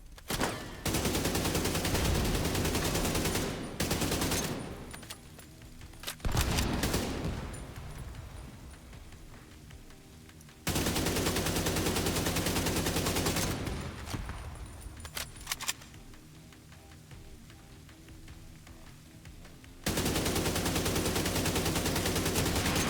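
An AK rifle fires in long, loud automatic bursts in a video game firefight, with sustained volleys broken by brief quieter pauses before the shooting resumes at full force.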